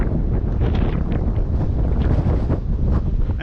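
Heavy wind buffets the microphone at Ġnien l-Għarusa garden in Mosta, Malta, producing a constant loud low rumble and flutter throughout.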